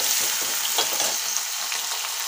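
Ground garlic sizzles steadily in hot oil while being stirred for gargatta, a dense, even hiss with soft scraping strokes running close and continuous throughout.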